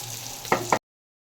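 Fish curry with peanut paste bubbling in a pan, with two short close bursts of stirring and sizzle over a low simmer, then a sudden cut to silence before the sound briefly returns.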